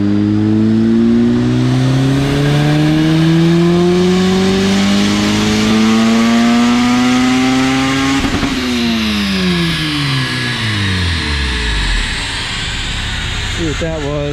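A turbocharged Honda CRX Si revs hard on a dyno, its engine note climbing steadily and loudly for several seconds, then dropping off as the pull ends and the revs fall away.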